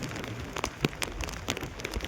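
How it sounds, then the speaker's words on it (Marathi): Steady rain falls outdoors by a creek during a stormy spell, with scattered close drop impacts ticking over a continuous wash of rainfall. "पाऊस वगैरे लागलेला आहे"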